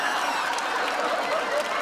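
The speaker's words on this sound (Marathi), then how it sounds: "एकदा जोरदार टाळ्या मारली" A comedy show audience claps and cheers in a continuous, moderately loud wash of applause with a hint of laughter, steady from start to finish.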